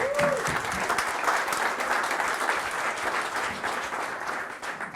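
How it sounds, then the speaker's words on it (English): Conference audience at a GWTcon keynote breaks into sustained applause, a broad even patter of many hands that holds steady and then begins to thin toward the end, heard from within the hall. "I would like to give them a round of applause for the amazing work"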